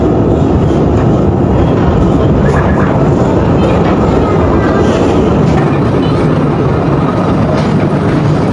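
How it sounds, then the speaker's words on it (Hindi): Train rumbling and clattering through a tunnel inside the Khewra salt mine, a loud, continuous close roar with dense rattling that fills the whole stretch without letting up. "सामने से ट्रेन आ रही है, ये देखिए ज़रा, ये आ रही है ट्रेन"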